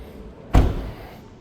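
Door of a 2025 BMW X4 M Competition in Marina Bay Blue Metallic slamming shut once, a single loud, close thud with a short decay in a quiet space.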